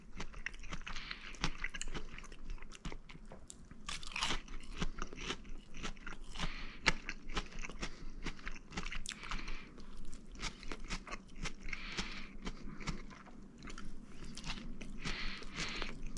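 Steady close-up crunching and chewing of fried pork cutlet (tonkatsu), loud crisp bites repeating over and over with wet mastication between them, no talking.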